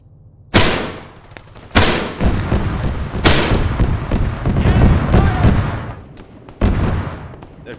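Loud bursts of gunfire in the video game ArmA 3, with rapid automatic volleys and heavy booming blasts, separated by short lulls, set against a busy rumbling battle din.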